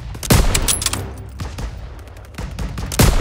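Bursts of World War II gunfire crack through a Call of Duty WW2 street battle in France, with sharp shots around the start, middle and end over a steady rumble of distant combat.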